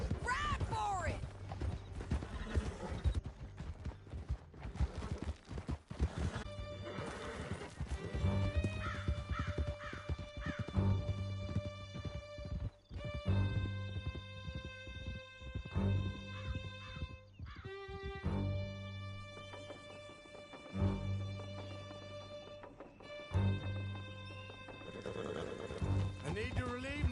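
Horses gallop over rough canyon ground in Red Dead Redemption 2, with rhythmic hoofbeats running under a game music score. Crows caw now and then, and voices speak over the ride.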